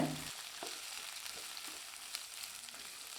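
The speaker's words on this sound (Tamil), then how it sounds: "ஒரு கைப்பிடி அளவுக்கு பீர்க்கங்காய் தோல் எடுத்திருக்கேன் இதை நல்லா பச்சைவாடை போகிற அளவுக்கு வதக்கி" Ridge gourd skin sautéed with dried red chillies in a pan for a peanut chutney, a faint, even hissing fry with a few light stirring clicks.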